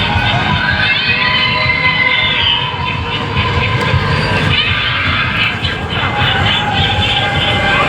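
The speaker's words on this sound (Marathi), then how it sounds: "लोकांची गर्दी आहे बघण्यासाठी" A dense crowd of people mills about at the Samvidhan Mahotsav 2025 fair, a loud continuous wash of overlapping voices and shouts with constant background commotion.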